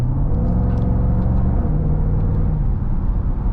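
A Jaguar F-Pace SVR's V8 engine rumbles at a steady idle, a deep, close, continuous burble with no clear revving, alone without talk.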